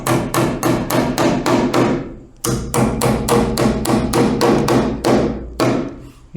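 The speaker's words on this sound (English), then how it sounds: "you drive your nails in" Nails are hammered in to mount a box against a wall stud. Rapid, loud, close hammer blows come in bursts of about eight, with short pauses between the bursts.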